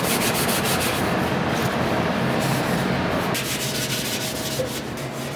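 Steel wool scrubbing the inside of a mixer bowl, loosening leftover sourdough dough, a steady continuous close rasping rub that runs the whole time without a break and without talk.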